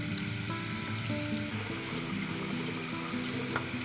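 Water runs steadily from a tap into a portable shower container, a continuous close rushing stream over a faint musical hum, with no talking.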